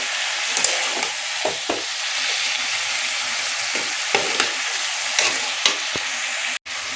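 Malabar spinach and shrimp stir-frying with spices in a pan, giving a steady close sizzle with occasional soft scrapes and clicks of stirring.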